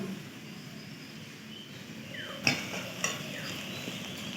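Fried potato and jackfruit being stirred in a pan: a low, steady sizzle with soft scraping, then a couple of sharp metallic clinks of a spoon against the pan near the end.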